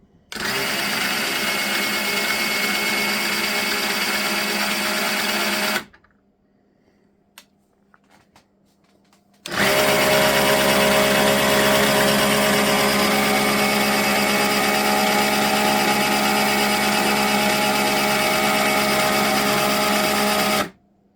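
An SBB280 electric snowblower runs its auger and impeller with a loud, steady mechanical whine for about six seconds, stops for a few quiet seconds with faint clicks, then runs again just as loudly for about eleven seconds.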